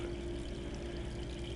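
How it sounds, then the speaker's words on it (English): Water runs steadily from a tap in Resident Evil 3 Remake, a dense continuous rushing pour with no pauses. "I'll turn the water off."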